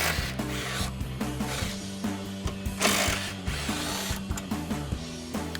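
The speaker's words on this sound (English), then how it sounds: "We're gonna grab our impact and 13mm socket." Cordless impact wrench with a 13mm socket spinning out Mustang subframe bolts, loud and close, a steady whirring drive broken by repeated hammering bursts and short pauses between runs, with no talking.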